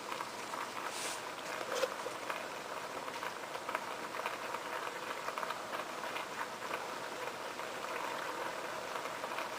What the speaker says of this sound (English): Leave it to simmer for a few minutes.